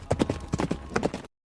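Horse hooves clip-clop across desert ground as an audio drama effect, a quick, steady run of close, distinct hoofbeats that stops abruptly.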